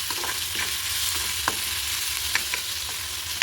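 Onion frying slowly over low heat in a pan for a prawn dish, giving a soft continuous sizzle with a few sharp clinks of a spoon stirring, close and without voices.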